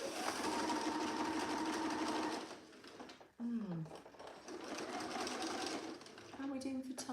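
A sewing machine runs in a steady, fast mechanical whir while stitching a jacket, pausing briefly midway before starting up again, close and fairly loud, with a voice heard speaking.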